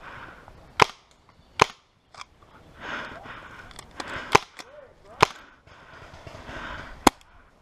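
A sniper rifle firing first strike rounds in a video game cracks out in sharp, loud single shots, about eight spaced irregularly, with quieter shuffling and clatter between them.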